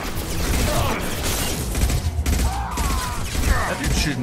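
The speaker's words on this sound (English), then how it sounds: "That dude's shooting me through a box." Dense, continuous gunfire from the video game Mass Effect 2, loud rapid bursts and booms layered over game effects for several seconds, with a voice speaking briefly.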